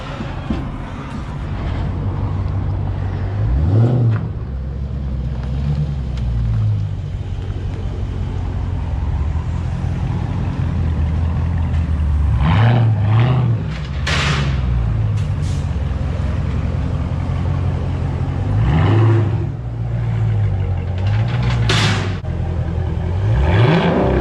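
A Dodge Challenger Scat Pack with long-tube headers and straight-pipe exhaust idles with a deep rumble, then revs hard in several short bursts spread through, loud and close, with rising whines on each rev.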